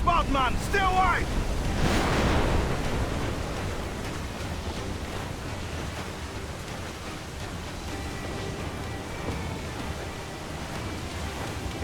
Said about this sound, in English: Water spout, man! Stay wide!